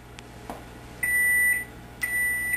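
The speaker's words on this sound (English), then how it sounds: "Okay, our timer's ready." A kitchen timer goes off while red velvet cupcakes bake, sounding two sustained high-pitched electronic beeps about a second apart over a quiet room.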